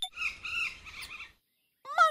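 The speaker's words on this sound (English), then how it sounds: "Monkey." A chattering, squealing monkey call with layered tonal cries and a low rumble beneath runs for over a second, then silence, and a voice briefly speaks.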